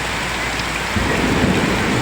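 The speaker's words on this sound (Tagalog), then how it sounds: "Kumukulog pa guys. Kumikidlat." Thunder rumbles through heavy rain during a tropical downpour with flooding streets, a steady dense hiss of rain with a low rolling boom swelling in about halfway through and continuing to the end.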